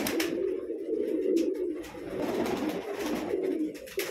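A large-sized pigeon in a loft in Bijnor, Uttar Pradesh, coos steadily in low, throaty rolls that run almost without pause, close and clear, with faint clicks and shuffling above.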